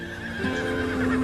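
A horse neighs loudly and close by in a long, wavering whinny with faint hoof clops beneath it, and nobody speaks.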